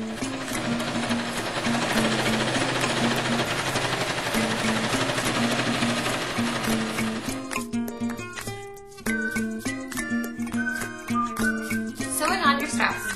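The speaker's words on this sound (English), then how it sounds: "I'm going to just go ahead and sew across that to create a nice seam" A sewing machine runs steadily, sewing a seam across the top of a dress, in one long continuous whir, then slows into short stop-start bursts while a person talks over it.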